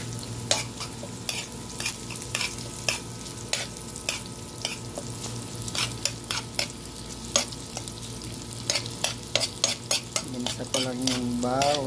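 Squid adobo sizzling in a pan while a utensil stirs it, steady frying hiss under a run of sharp, irregular scraping clacks against the pan, fairly close and without talk.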